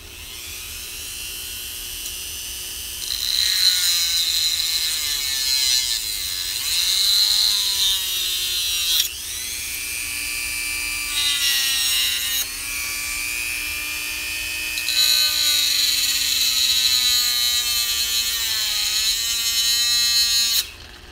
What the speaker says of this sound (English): When your tool stops, shut it off. So that's what happens from time to time. I think it's time for a new Dremel.